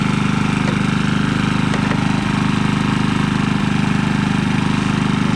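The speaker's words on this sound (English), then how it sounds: "this is what the motor's going to sound like when we go to 750 watts" A 3000W portable generator running in eco mode under a 750-watt heater load, its engine droning steadily and loudly at an even pace with no pauses and no talk.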